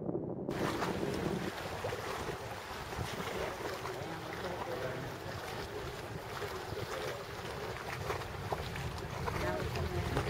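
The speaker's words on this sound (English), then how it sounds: "Here comes the rumble." Deep, continuous low roar of a space shuttle launch heard from a distance, rumbling steadily with wind buffeting the microphone and voices murmuring underneath.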